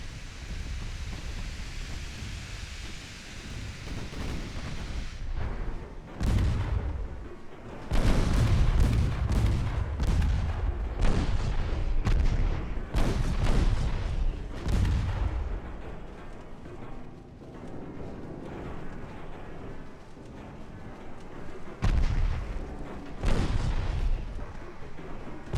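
Warship naval guns fire repeatedly in the naval battle game Ultimate Admiral Dreadnoughts, heavy booming salvos over a constant rumbling sea-like wash, irregular shots spread across the stretch with no voice.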